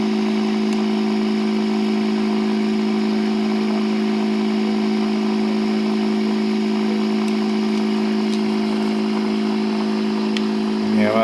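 A generator motor runs at a steady high RPM, a constant loud droning hum with a firm tonal whine throughout, close to the microphone.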